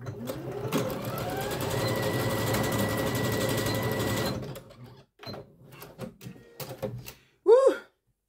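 A sewing machine runs steadily for about four seconds, stitching a small zigzag, then stops. Soft handling clicks follow, and a voice exclaims briefly at the end.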